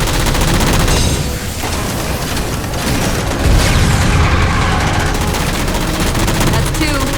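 Rapid, loud bursts of automatic gunfire and booming shots in Halo 4 as jammers are shot down, dense and continuous across the whole stretch with no clear speech.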